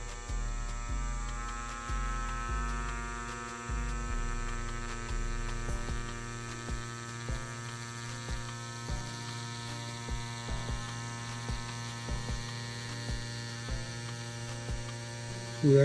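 A tattoo machine running while drawing a line into skin, a steady electric hum with low buzzing overtones and faint regular ticks throughout, close and continuous.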